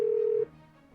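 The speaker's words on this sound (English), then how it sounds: "getting a phone call." A steady pure electronic phone tone sounds loud for about half a second, then cuts off, leaving a faint low hum.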